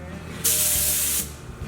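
A spray gun lays down a coat of paint in one loud, close hiss lasting under a second, with faint talk underneath.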